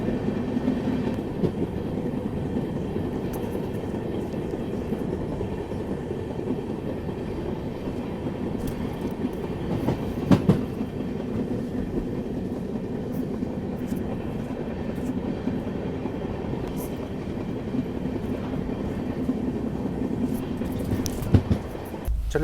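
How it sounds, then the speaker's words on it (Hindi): A passenger train rolls steadily over a bridge across a lake in the Kerala backwaters, a continuous rumble with rhythmic wheel clatter heard from on board, no talking. "आप देखो बिल्कुल लेक के ऊपर से हमारी ट्रेन चल रही है"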